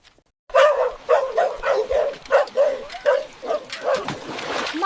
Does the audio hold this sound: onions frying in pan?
no